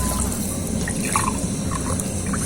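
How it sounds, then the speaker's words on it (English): Water poured from glasses into a saucepan of rice for mutton biryani, cooked outdoors in an African village, making a steady close splashing, trickling fill that runs continuously throughout without talk. "I'm going in with 4 glasses of water"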